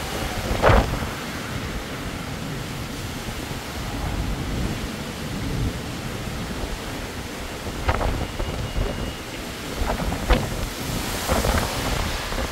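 Heavy rain and gusting wind roaring in a dense, constant wash, with occasional louder bursts of wind buffeting the microphone.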